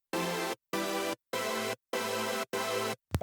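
A layered synth chord stack playing with its piano layer switched off: five sustained chords in a steady rhythm, each separated by short gaps, loud and alone, ending on a brief unrelated blip.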